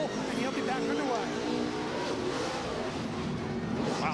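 A NASCAR stock car pulling hard out of its pit stall at Sonoma, engine roaring amid a broad wash of race-track noise, heard at a distance under a commentator's voice.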